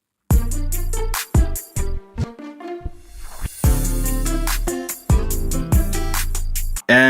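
Instrumental backing track of a song, with punchy beat hits, bass, and synth layers cutting in and out in bursts, loud and alone without vocals.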